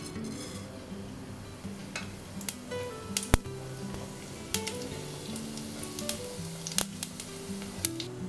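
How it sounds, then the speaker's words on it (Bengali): Cumin seeds crackle and sizzle in a little hot mustard oil while a stuffing for lentil chilla is started, a steady close fizz with light clinks of a utensil against the pan. "এবারে একটু জিরে ফোড়ন দিয়ে দিচ্ছি"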